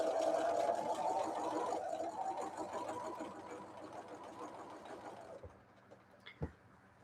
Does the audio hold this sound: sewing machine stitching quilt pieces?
yes